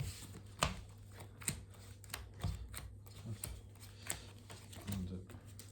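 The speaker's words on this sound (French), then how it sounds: "on mélange nos cartes, on les place en dessous de notre deck" Pokémon trading cards being shuffled at a tabletop match, a series of sharp riffling bursts spaced roughly every second, close and crisp, with a person talking over them.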